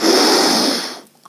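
A person takes one long, loud, close breath in through the nose during a yoga exercise. It is a breathy rush of air that fades out after about a second.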